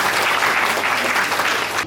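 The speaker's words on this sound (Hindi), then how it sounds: "एक जोरदार तालियां आप सभी अपने लिए दीजिए" Loud, dense applause from a school event audience, continuous clapping throughout the short burst with no voices over it.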